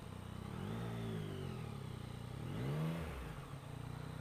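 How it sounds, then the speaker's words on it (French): A motorcycle in city traffic pulls away using clutch and throttle, its mid-pitched engine rising in two revving swells and easing back, close and moderately loud, with no talk. "Là ça se joue à l'embrayage, un peu de gaz"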